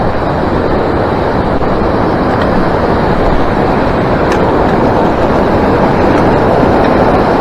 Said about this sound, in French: Traverser ce petit torrent.